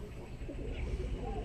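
Pigeons in a loft give soft, low cooing in short rounded bursts, repeating steadily against a murmur of background noise.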